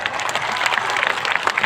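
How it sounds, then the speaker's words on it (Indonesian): An audience claps at a religious gathering and haul commemoration, a dense, lively burst of applause from many hands that holds steady throughout. "Tepuk tangan untuk Pak Dani."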